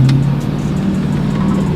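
A SEMA build car's engine and exhaust rev loudly up close, a deep, throaty, sustained drone with a slight rise in intensity.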